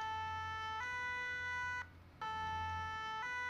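Emergency vehicle siren from a firefighter role-play video game, a steady electronic wail with bright stacked tones that cuts off briefly near the middle and then resumes, loud and alone with no talk.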